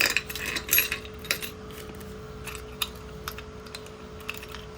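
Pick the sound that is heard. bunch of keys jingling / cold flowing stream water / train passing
bunch of keys jingling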